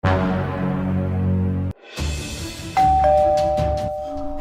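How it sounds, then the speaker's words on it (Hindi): A doorbell rings with a bright two-tone chime, ringing out clearly over a low background of music before fading. "घंटी बजी, लगता है जैद आया होगा।"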